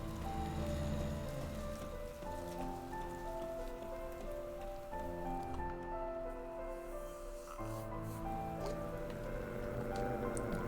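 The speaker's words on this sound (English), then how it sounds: "Oh, it's raining." Steady rain patters on a surface throughout in the video game Night in the Woods, accompanied by sustained tonal music chords, with no voices.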